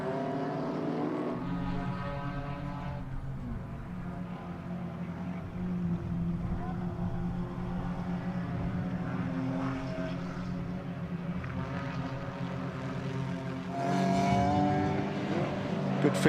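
Race car engines drone steadily from a distance at Bruce McLaren Motorsport Park, a pack of cars buzzing past with rising and falling pitch over constant background noise.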